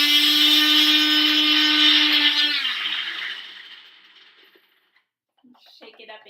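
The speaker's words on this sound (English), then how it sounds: "And now I'm going to grind these all together using the NutriBullet" A NutriBullet blender grinds pigment oxide powders for a shimmer blush, a loud steady motor whine for about two and a half seconds that winds down and fades, followed by faint light clicks near the end.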